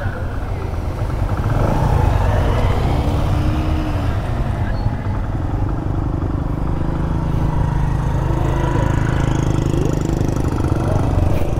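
A Hero motorcycle rides along a border road in Ramgarh, its steady engine drone and wind rumble continuous and close throughout, with voices talking over it.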